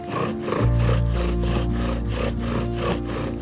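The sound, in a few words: wood friction fire set being burned in, wood rubbing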